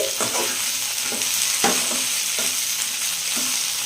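Okra fries in oil over a medium flame with a steady, close hiss, punctuated by several soft stirring knocks and scrapes from a spoon in the pan.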